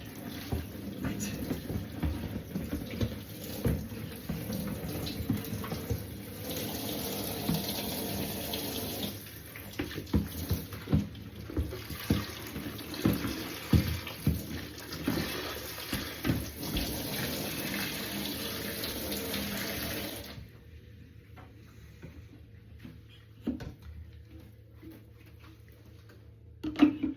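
A kitchen tap runs steadily while a bowl is rinsed, with clinks and splashes breaking through the rushing water for about twenty seconds before the flow stops and a quiet room remains.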